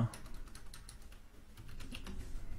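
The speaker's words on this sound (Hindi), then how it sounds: "आप यहां पे लिखेंगे शर्मा" Rapid, irregular keystrokes on a computer keyboard while entering text into an Excel spreadsheet, close and fairly quiet, a steady patter of clicks with no voices.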